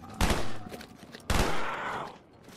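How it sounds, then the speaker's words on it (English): Two loud, close bursts of gunfire in a Call of Duty VR Zombies game, each a sharp crack trailing into a short rumbling decay, spaced about a second apart. "I'm gonna start shooting here."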